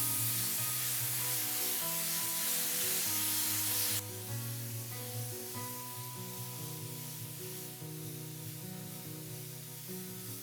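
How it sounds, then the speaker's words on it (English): Clear top coat sealer sprays from a can in a steady hiss that runs continuously for about ten seconds, loud and close, with a slight drop in level partway through. "we're just going to spray it on"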